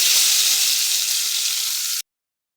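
Chopped onion hits hot oil with nigella seeds and sets off a loud, steady sizzle that holds close for two seconds, then cuts off abruptly to silence.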